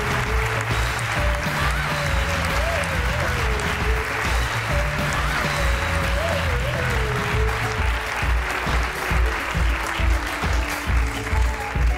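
Conference audience applauding the winning team, a dense, sustained burst of clapping from many hands that keeps a steady level throughout, with a few faint voices underneath.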